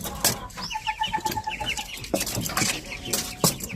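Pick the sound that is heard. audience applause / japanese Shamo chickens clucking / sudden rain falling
japanese Shamo chickens clucking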